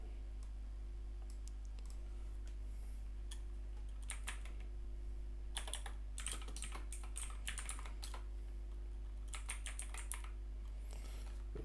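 Fingers typing on a computer keyboard to enter a target IP, soft irregular clicks arriving in short bursts separated by pauses over a steady low electrical hum.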